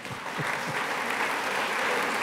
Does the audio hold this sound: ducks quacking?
no